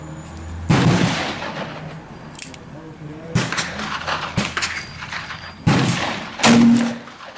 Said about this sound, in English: 6 shots with a 200 grain, 12 grains of Winchester Western 296, and a 357 Magnum case out of the 686